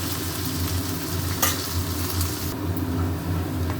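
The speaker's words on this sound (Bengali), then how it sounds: "পেঁয়াজ ভাজা হচ্ছে, এতে আছে জিরে, শুকনো লঙ্কা, মানে লাল মির্চ, ঝাল মির্চ" Onions sizzling in a wok of oil with cumin and dried red chillies, a dense continuous fry with stirring scrapes and a brief louder crackle midway, no talk.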